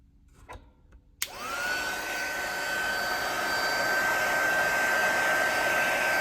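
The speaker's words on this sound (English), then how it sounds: "do a little bit of a speed dry using a mild setting of a very mild-mannered heat gun." Heat gun on a mild setting drying the circuit board of a vintage Peavey Bravo 112 amplifier, switching on with a click and then a steady loud whooshing blower hum with a thin whine.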